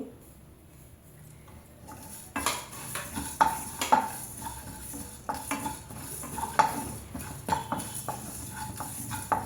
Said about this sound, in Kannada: ಇವಾಗ ಕರಿಬೇವಿನ ಸೊಪ್ಪು ಹಾಕೊತೀನಿ.